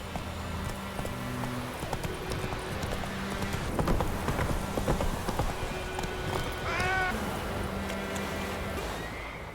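Roach, the horse in The Witcher 3: Wild Hunt, gallops with fast rhythmic hoofbeats alongside a short whinny partway through, over sustained game music and ambience.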